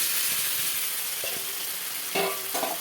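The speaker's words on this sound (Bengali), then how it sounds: "এবার আমি সেদ্ধ করা এঁচড়টা দিয়ে দেবো," Boiled jackfruit and potato tumble into a pan of hot oil and spices, giving a steady broadband sizzle throughout with a couple of brief louder clatters near the end; no one speaks.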